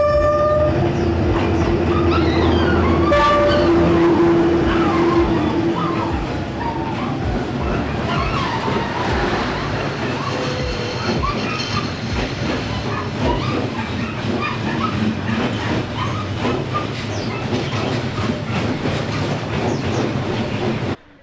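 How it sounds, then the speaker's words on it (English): A train rolls past close by with a loud, steady rumble and clatter of wagons, its horn sounding a long sustained blast early on before the heavy roar carries on to the end. "train is coming."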